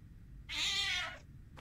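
A cat in the video game Nightmare of Decay gives one drawn-out, clear meow lasting about a second, alone against a quiet background hum.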